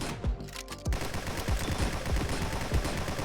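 In a video game, explosives hit a bee hive with several sharp blasts. A rapid burst of bangs follows, and loud crackling impacts continue over dense background noise.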